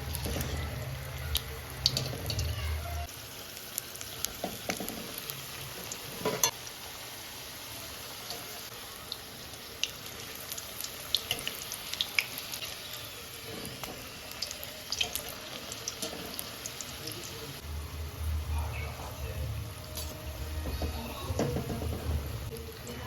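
Potato spring rolls frying in white oil over a low flame, giving a soft, continuous bubbling sizzle with scattered faint pops and light utensil knocks, no talking.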